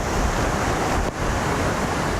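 Storm surge waves from a tropical cyclone crash and roar in a loud, steady wash of surf with heavy wind buffeting, no voices present.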